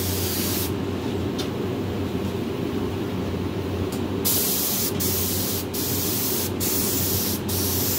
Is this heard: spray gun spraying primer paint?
yes